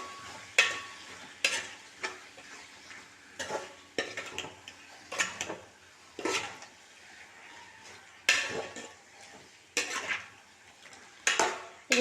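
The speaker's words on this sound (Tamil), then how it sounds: "இப்போ நல்லா கிளறிக்கலாம்." Chicken gravy is stirred in a pan, with repeated scraping strokes and clinks of a spoon against metal coming in irregular bursts over a soft simmer.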